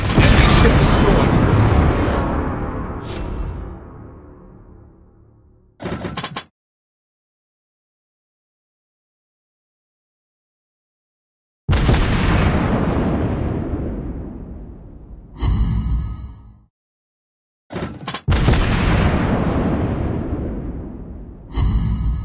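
Heavy explosions and artillery booms from a naval battle in World of Warships Blitz as an enemy ship is destroyed: several loud bursts with long rumbling decays, separated by sharp cutoffs and a stretch of silence.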